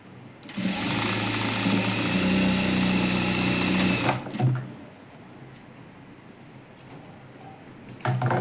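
A sewing machine stitches a princess-cut blouse in one continuous, fast, close run of about four seconds, then stops, leaving faint handling noises.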